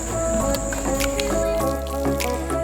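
Water splashing and dripping onto a 2017 Corvette Z06 body panel as it is wet down before sanding, with steady trickling and light drips up close over a constant background hum.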